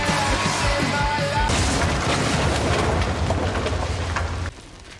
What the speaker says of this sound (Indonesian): Ranjaunya meledak parah, langsung ngancurin semua peti dengan uang palsunya.